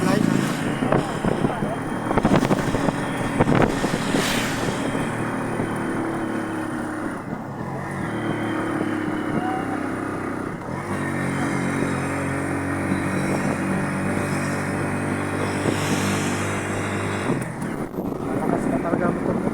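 A motorcycle ridden along a road gives a steady engine drone with shifting pitch and wind rush, while people talk over it throughout.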